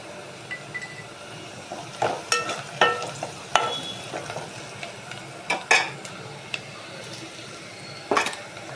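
Chopped onion with turmeric frying in a pan for Andhra chicken curry, a low constant sizzle broken by repeated sharp scrapes and clinks of a spoon stirring against metal.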